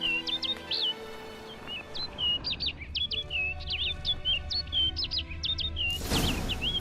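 A bird in The Witcher 3 sings a quick series of high, sharp chirps and trills over a low ambient hum, ending with a brief burst of rustling noise as it flies off.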